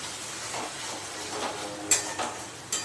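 Hilsa masala with yogurt sautéing in a pan, giving a soft, steady sizzle and hiss with a few brief stirring scrapes, fairly quiet and close, without talk.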